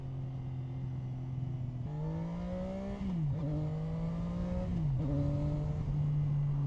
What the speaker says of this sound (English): Oh, I love the acceleration on this bike.